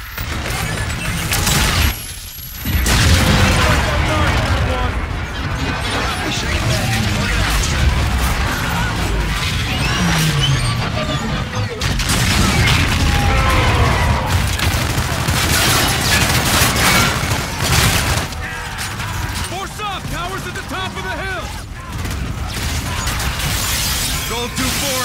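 Artillery strike explosions in the video game Call of Duty: Infinite Warfare, a dense, loud barrage of booms, crashes and debris with a brief lull early on, under radio chatter and game voices.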